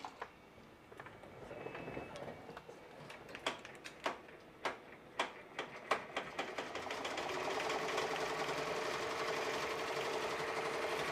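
A commercial embroidery machine stitching a run of 12 hats, starting with a series of sharp, clattering mechanical clicks and thumps, then settling into a steady, fast rattling hum, close and moderately loud, with no voices.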